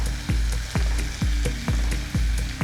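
Kashmiri chili powder frying in hot mustard oil for a tangra fish curry, a steady close sizzle with a regular scraping stir about twice a second, no voices.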